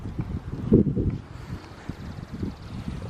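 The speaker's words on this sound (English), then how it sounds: "It's super windy out here." Gusty wind buffets the microphone in uneven low rumbles, rising and falling in bursts with no one speaking.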